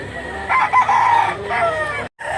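A gamecock crows close by, a long strained call with a brief cut near the end, then more crowing resumes.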